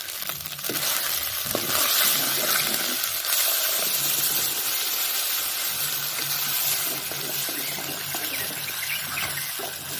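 Ground tomato and onion paste poured into a simmering egg curry in a pan, a continuous bubbling sizzle with wet scraping and stirring, close and fairly loud, no voices.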